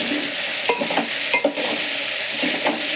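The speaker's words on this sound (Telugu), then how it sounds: "మంచిగా వేగుతున్నాయి." Food frying in a pan while a dish is being cooked, with a continuous close sizzle and several stirring or clattering knocks of a utensil against the pan, no voices.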